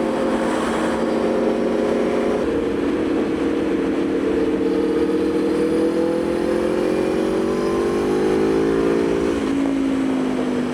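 Aprilia Tuono V4 motorcycle engine idling and revving on a ferry, a loud, close, steady drone whose pitch slides and shifts throughout, with no speech.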